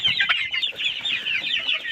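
A flock of growing chickens raised for eggs clucks and chatters steadily throughout, many birds overlapping in a busy, continuous bird chorus with no talk.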